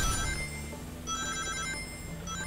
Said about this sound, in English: Love the sound of rings.